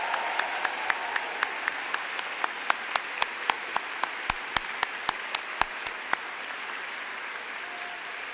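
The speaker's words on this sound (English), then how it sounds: "So one more big round of applause." Audience applause at a spring university commencement ceremony, a soft broadband wash of clapping with several sharper, louder individual claps standing out in a steady rhythm before tapering off near the end.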